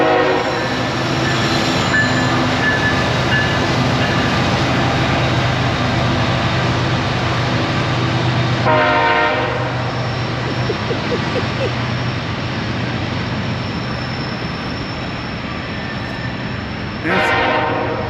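A freight train rolls past nearby with a steady loud rumble of wheels and cars, its horn sounding in long blasts around the middle and again near the end.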